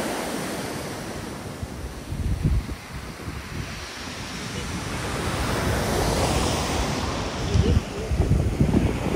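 Black Sea waves wash onto a beach in Adler in a continuous rushing surf, stirring up murky water, with wind buffeting the microphone and a few louder breaking surges.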